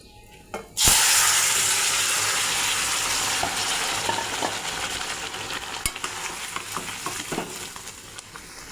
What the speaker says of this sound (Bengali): তরকারিটা আমি কড়াইতে ঢেলে দেব।